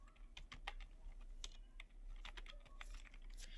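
Text being typed on a computer keyboard during graphic design work, quiet irregular key clicks in short bursts over a low hum.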